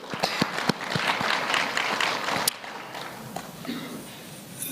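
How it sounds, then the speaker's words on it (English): Conference audience clapping for the ambassadors at a trade and investment event, a moderate, fairly distant round of applause that fades after a few seconds into quieter room noise. "May we please give our ambassadors a round of applause."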